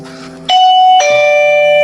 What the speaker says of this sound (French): Je vais laisser la sonnette. On va descendre et sûrement qu'on va l'entendre.